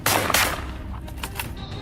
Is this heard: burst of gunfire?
yes